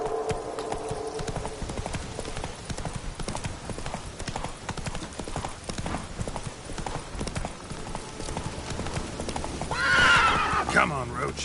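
Roach the horse gallops in The Witcher 3 game, with rapid continuous hoof clip-clops throughout and a loud whinny near the end, as a voice briefly urges the horse on.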